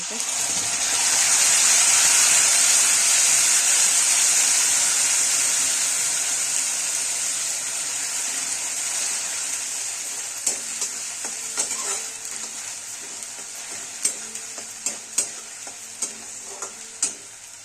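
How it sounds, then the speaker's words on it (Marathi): Cumin and mustard seeds sizzle loudly as prepared gravy for chickpea curry hits hot oil, a strong close frying hiss that gradually settles, then scattered clinks and pops of stirring. "जिरे मोहरी आता त्यात घालला आणि ही ग्रेव्ही केलेली आहे ती टाकून"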